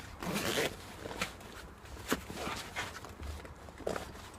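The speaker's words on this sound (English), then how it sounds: "zip that one off" A detachable pouch being unzipped from an LK35 rucksack: several short zipper pulls and fabric rustles, close and fairly quiet, with soft handling knocks between them.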